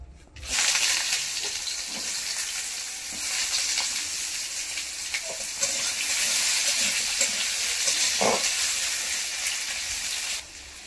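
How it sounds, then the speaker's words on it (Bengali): Steady sizzling hiss of thinly cut potatoes and onion frying in hot mustard oil, with a faint clack or two partway through. "আলু আর পেঁয়াজ ভাজতে থাকুক ততক্ষণ।"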